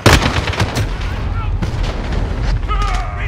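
Flashbang blast and rapid gunfire during a Modern Warfare team deathmatch on the Aisle 9 map, loud and dense, with repeated sharp bursts over a rumbling low end and voices calling out under the shooting.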